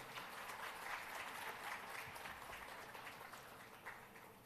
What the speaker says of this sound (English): Let's make a round of applause there